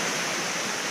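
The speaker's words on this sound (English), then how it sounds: "We have seen the waterfall" A waterfall pours in a constant, dense rushing hiss, loud and unbroken over a brief moment, with no voices.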